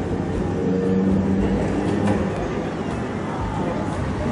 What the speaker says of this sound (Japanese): 普通の速度で路面電車を駆け抜けておりますけれども